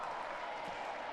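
Steady applause from a stadium crowd at a women's field hockey match, a broad, even wash of clapping that holds at one level throughout the short moment.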